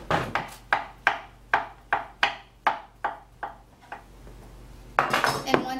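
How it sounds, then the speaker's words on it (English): A knife chops a peeled banana on a cutting board in about ten steady, evenly spaced knocks, close and clear, followed by a brief clatter. "And we're ready to chop our banana."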